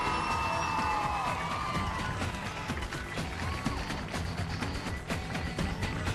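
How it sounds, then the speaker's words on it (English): A studio crowd at a robot combat competition cheers and whoops for the robot Deb Bot, with dense, sustained cheering and scattered shouts that slowly fade. "Give a round of applause for Deb Bot."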